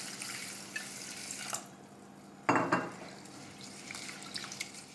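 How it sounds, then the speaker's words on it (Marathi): Urad dal being rinsed with water in a home kitchen: quiet running and splashing water with a few drips, then a louder splash and swish partway through before settling back to soft trickling. "आता ह्याला आपण स्वच्छ धुवून घेऊया 3दा."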